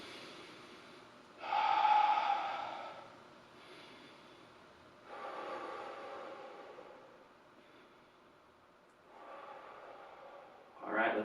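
Deep, slow breaths during a warm-up stretching routine before exercise, three long airy inhale-exhale swells spaced a few seconds apart, close and breathy, with a sharper breath at the end.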